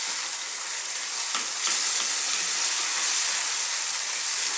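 Roughly chopped whole canned tomatoes sizzle in a hot pan for a broccoli cheese bake sauce, a dense, loud, steady frying hiss with a couple of faint clicks, no talk.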